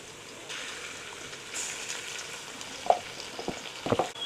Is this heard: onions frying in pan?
yes